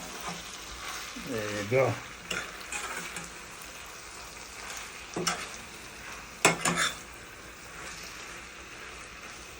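Cod fish and okra frying in a pan being stirred around, with scraping stir strokes and soft sizzling under brief speech; a few sharper utensil clanks stand out near the end.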